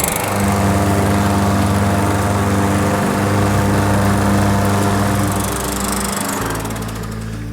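A lawn mower fitted with a cleaned, sharpened, once-rusty blade runs loud and close, its engine droning steadily with slight shifts in pitch as it cuts grass.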